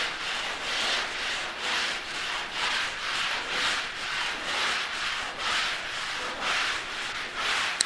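A plywood fairing board with two handles and three glued sheets is rubbed diagonally over a planked wooden boat hull, giving loud rhythmic rasping strokes that rise and fall steadily, with no talk.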